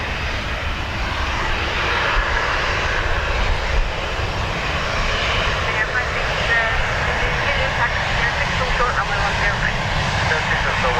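A Bombardier Challenger business jet departs Dublin Airport, producing a loud, continuous engine roar that holds steady, with a voice talking over it.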